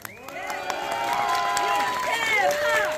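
An audience at an outdoor concert in Yangpyeong cheers loudly for the singer, with rising shouts and whoops mixed with scattered clapping, building in a continuous swell of crowd noise.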